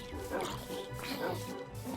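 Dogs in the Minecraft video game bark and yip in short bursts during an attack, mixed with game noise and a voice talking over them.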